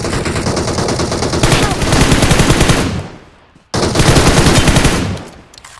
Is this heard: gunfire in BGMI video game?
yes